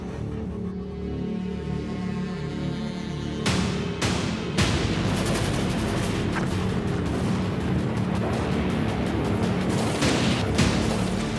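Bofors guns and T-90 tanks firing in an India-Russia military exercise near Jhansi: a rumbling engine drone, then several sharp booming blasts and continuous heavy gunfire, loud and close.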